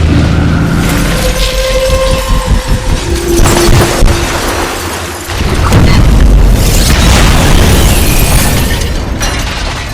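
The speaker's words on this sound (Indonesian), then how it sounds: "helikopternya yang meledak" A loud, rumbling helicopter explosion in an action film, with a deep boom, followed by sustained roaring blasts and crackling debris that fill the whole span.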